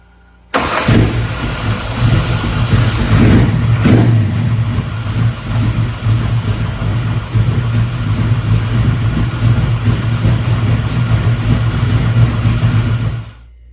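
A car engine starts up close and loud, revving a few times before settling into a steady rumbling idle, then cutting off.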